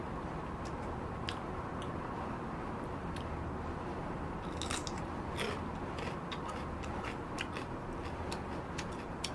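Crisp bites and steady chewing of a crunchy cucumber chili pepper (oichugochu) eaten with garlic rice bibimbap, close and fairly quiet, with repeated sharp crunch ticks over a soft chewing background and no talk.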